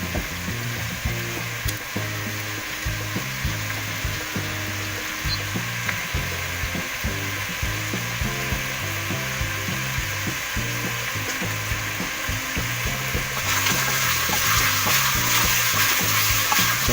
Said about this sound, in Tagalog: Yan, haluin po siya natin siya habang ginigisa.